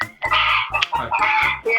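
Chicken clucking loudly and close by in a home during an online class on basic teaching skills, a run of repeated squawking clucks with brief pauses, filling the whole moment with no talk over it.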